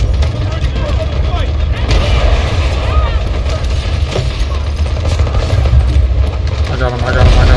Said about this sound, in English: Artillery barrage ready